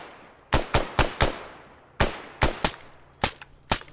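Single rifle shots in Arma 3 crack out in uneven groups, about ten sharp reports spaced across a few seconds, close and distinct against a quiet low rumble.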